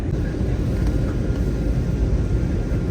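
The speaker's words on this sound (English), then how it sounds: "the plane will soon land, so it will make a sharp left turn and land at Fukuoka airport." Steady, loud broadband rumble of engine and airflow noise inside the cabin of an Airbus A321neo on approach to Fukuoka airport, a continuous low roar with no talk.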